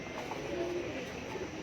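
Pigeons perched on a hot rooftop in Lahore give soft, low coos amid a constant background hum, faint and intermittent.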